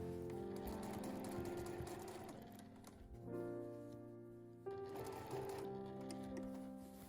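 A sewing machine stitches the inner lining of a drawstring pouch, running in close, steady mechanical bursts with a brief slowdown in the middle before picking up again; no voices.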